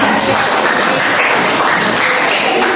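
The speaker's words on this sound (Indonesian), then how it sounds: "Tepuk tangan buat Ucok" Classmates clap for a student in a classroom, a loud, dense burst of applause filling the whole moment without talk.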